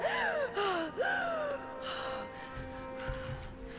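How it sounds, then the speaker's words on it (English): In the video game Rise of the Tomb Raider, Lara Croft gasps for breath after coming up from water, giving a few sharp, loud, close gasps and heaving breaths over a low game background hum. "Come on, you took a deep breath."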